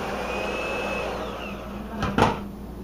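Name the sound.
electric mixer beating pear bread batter on high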